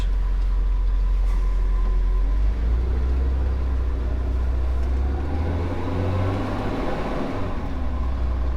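A Jeep TJ with a hardtop on its first road drive after a gear change, a steady interior drive rumble with deep low engine tones shifting in pitch and constant road noise.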